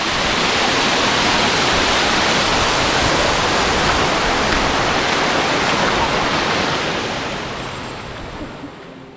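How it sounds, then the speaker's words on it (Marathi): A jungle waterfall on the Andharban trek pours in a loud, dense, unbroken roar close by, easing slightly toward the end. "तिकडनं जो हा धबधबा पडतोय"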